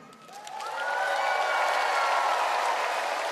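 An audience at an international circus festival in St. Petersburg's Ciniselli Circus bursts into applause that swells within the first second and then holds as a dense, sustained clatter of clapping, with faint voices beneath.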